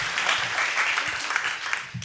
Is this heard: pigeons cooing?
no